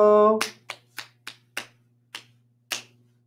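A short sung tone is followed by six crisp hand claps in an uneven rhythm, close and distinct, each clap sharp and quickly fading into quiet.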